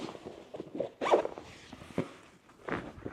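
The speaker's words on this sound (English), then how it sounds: "zip up pistol holder" A zipper on the pistol holder of a Sabre Dagger bag is pulled, giving several short, close rasping zips with brief pauses between them.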